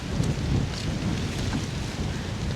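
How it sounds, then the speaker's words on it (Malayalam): Wind gusts across open corn fields, a continuous low rumbling roar with buffeting against the microphone and a faint rustle of leaves, no speech. "കാറ്റ് വീശിട്ട് ചോളച്ചെടികളെല്ലാം ഇങ്ങനെ പറകുന്നത് കണ്ടോ."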